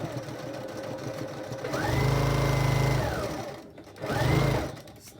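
A sewing machine stitches a fabric face mask in two bursts, a long run and then a shorter one, its rapid needle hum rising and falling, close and loud with no voices.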